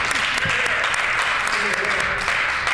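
Legislators in a provincial legislature chamber applaud a colleague, the Minister of Justice, with steady, dense clapping that fills the room throughout, with a murmur of voices mixed in.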